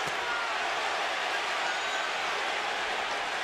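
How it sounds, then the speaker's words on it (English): Boxing arena crowd at the Arturo Gatti vs Micky Ward fight, a dense, steady roar of many voices chanting and cheering throughout, loud and continuous with no single speaker standing out. "Crowd begins to chant"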